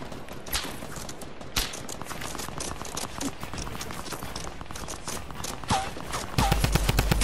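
Fortnite gunfire bursts along in rapid, dense volleys of shots, loud and steady throughout, with a heavier, louder section near the end.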